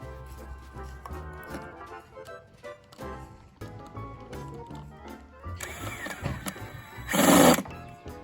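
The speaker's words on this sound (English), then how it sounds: "So here's the screw, and I'm ready to drive it in. I put it in the pilot hole." A screw is driven into a pilot hole in a plastic fascia board while a guttering bracket is fixed. A short, loud whirring burst comes near the end, after quieter clatter and background sound.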